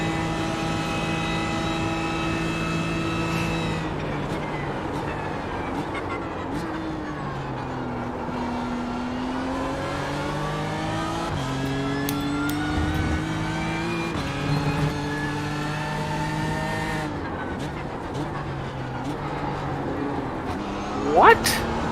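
Race cars in a Daytona endurance racing video game scream past, their engine notes sweeping up and down in pitch as they pass and fade, while a voice talks over the constant roar.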